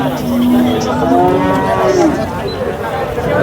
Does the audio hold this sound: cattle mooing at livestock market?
yes